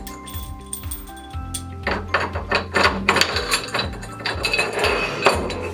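Metal washers and a bolt being handled while changing a wheel assembly, with bright clinks and clanks, a few faint tones early, then a flurry of close, loud metallic knocks and rattles.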